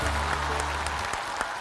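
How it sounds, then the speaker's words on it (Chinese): Brief studio applause on a stand-up comedy variety show. Scattered claps sit over a low sustained tone that drops away partway through, leaving a lighter, patchy clapping to finish. "我觉得我们几个要给你鼓掌，了不起！"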